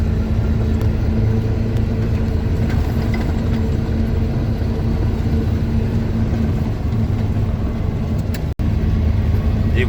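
A KAMAZ truck on a Yakutian winter road drones loudly from inside the cab as it speeds up to overtake, a steady low engine rumble with road noise throughout.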